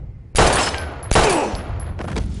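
Gunshots in the Life Is Strange video game: three loud, sharp blasts in quick succession, each with a ringing decay, close and without talk.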